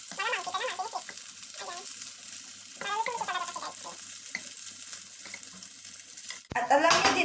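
Chicken sizzles and crackles steadily as it fries in a pan, with a voice talking over it and a louder burst of sizzling near the end.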